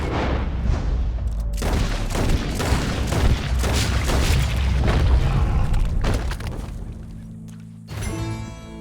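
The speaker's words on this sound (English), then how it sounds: "He shot the thing!" Gunfire rings out in Red Dead Redemption 2, a run of loud booming shots with rumbling tails over several seconds, followed by a quieter stretch with a buzzing tone.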